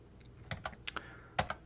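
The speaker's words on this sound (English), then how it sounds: "So I hit backtick, so the key to the left of the one key on most keyboards" A computer keyboard clicks through a handful of quick, distinct keystrokes, close and fairly quiet, with a couple of sharper presses toward the end.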